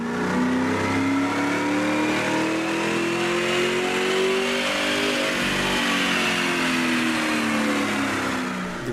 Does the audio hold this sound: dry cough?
no